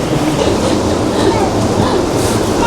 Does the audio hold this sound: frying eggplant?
no